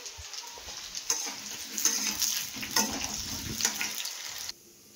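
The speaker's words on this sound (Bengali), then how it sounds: "তারপর তেল গরম করে ডিমের আলুটা ভেজে নিচ্ছি, একটু লাল লাল করে ভেজে নেবো" Potatoes fry in hot oil with crackling sizzle and stirring scrapes in a pan, loud bursts rising and falling in close range, then cutting off abruptly to quiet.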